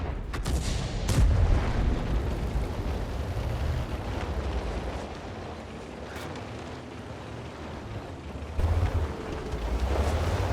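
A 105mm double-barrel tank gun fires in a video game, with a deep heavy boom near the start and a second low blast later, over a rumbling battlefield background.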